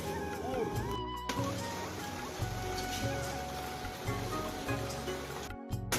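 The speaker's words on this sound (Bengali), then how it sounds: "আর বৃষ্টি হচ্ছে, মানে বিশাল বৃষ্টি" Heavy rain pours down in a steady, dense hiss with low rumbling underneath, briefly cut off twice, and no one speaks over it.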